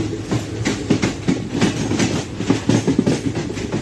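Close, loud rumble of the Sabari Express rolling on the rails, with rapid rhythmic clickety-clack of wheels over joints under a steady low roar from inside a moving coach.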